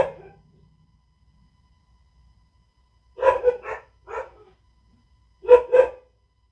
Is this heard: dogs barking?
yes